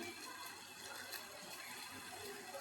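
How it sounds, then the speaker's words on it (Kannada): A pot of water bubbles at a steady boil for lemon leaf tea, a continuous churning, gushing wash with no talk over it. "ಕುದೀತಾ ಇದೆ, ಇವಾಗ ಹಾಕ್ತಾಯಿದ್ದೀನಿ."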